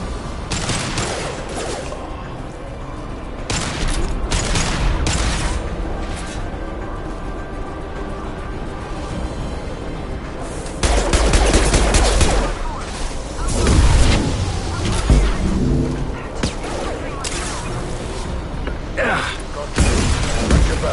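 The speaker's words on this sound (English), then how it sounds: "Firing an impact shot!" Weapon fire and explosive impacts from Mass Effect 2, with an impact shot among them: a dense, loud fusillade of sharp blasts and booms across the whole stretch, with mechanical clatter and combat voices talking over it.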